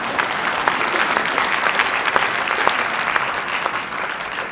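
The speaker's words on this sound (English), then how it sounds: "So a round of applause for 2 very brave," A debate audience applauds the two debaters with loud, close, continuous clapping, dense and steady throughout with individual sharp claps standing out.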